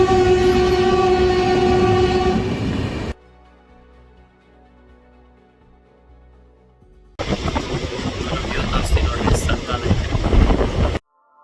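A passenger train runs along the track, loud rumbling carriage noise at close range that cuts out into a quiet stretch for several seconds and then returns just as heavy.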